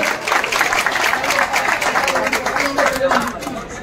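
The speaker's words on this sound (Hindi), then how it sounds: "एक जोरदार तालियां हो जाए भाई मेरे।" A crowd applauds at a turban-passing ceremony between ustaads in Malkaganj, dense clapping mixed with lively voices and chatter, close and fairly loud throughout.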